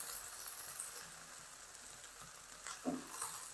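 Okra pieces frying in hot oil while being stirred continuously, giving a faint, steady sizzle with soft patter and a brief louder stir near the end.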